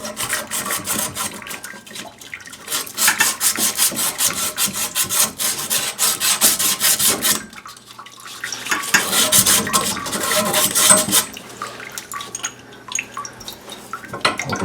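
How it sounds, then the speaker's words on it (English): Paint being scraped off a pipe in a laundry room, rough rasping strokes that come in long dense bursts, separated by short pauses. "I'm going to go ahead and clean this paint off first."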